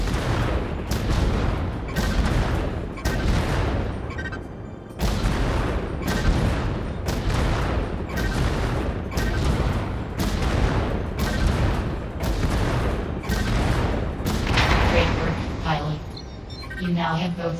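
Small and large mech cannons fire in the VR game Vox Machinae: loud, heavy blasts repeat about once per second with a steady rumble between them, and a sharper burst comes near the end.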